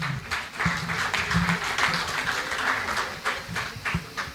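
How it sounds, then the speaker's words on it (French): An audience claps at a Panafrican corporate awards ceremony, with uneven, choppy clapping of moderate loudness and some low thumping underneath. "Mesdames et messieurs, applaudissez."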